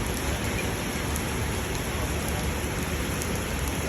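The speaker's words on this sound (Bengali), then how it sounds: "এমন টাইমে বৃষ্টিটা নামছে।" Steady rain pours down outdoors, a dense, even hiss of falling drops that stays constant and fairly close, with no voices.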